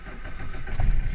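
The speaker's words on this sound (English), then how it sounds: "Okay, so we're going to start the car up" A car engine cranks and catches during a DIY carbon-cleaning job with Revive Turbo engine cleaner, with a short close rumble rising near the end over steady engine noise.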